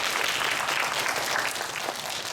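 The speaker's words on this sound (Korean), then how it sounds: "우리 여성계분들한테 박수 한번 쳤습니다" Congregation clapping inside a church during a Sunday service, a dense steady patter of many hands held at an even level for a couple of seconds.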